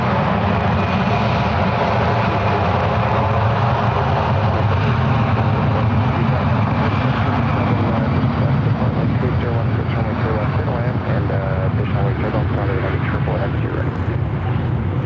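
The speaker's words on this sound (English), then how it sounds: "Here we go, 757-300 departing off the ones real quick." A Delta Boeing 757-300 takes off from SFO, a loud sustained jet engine roar that stays full and steady throughout, with a broad rumbling hum and a faint high whine.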